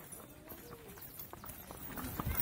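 Horses' hooves clip-clop steadily during a group horseback cavalcade in Martinópolis, São Paulo, a run of light, fairly close knocks over outdoor crowd murmur.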